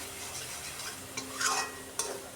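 Masala spice paste sautéed in oil for a rohu fish curry with pointed gourd and potato, soft stirring scrapes and a gentle sizzle, with a couple of louder utensil knocks near the end.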